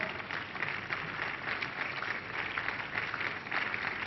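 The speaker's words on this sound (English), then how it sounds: "Keep clapping for somebody" A church congregation keeps clapping in praise, an even wash of many hands sustained throughout at moderate loudness, with no voices standing out.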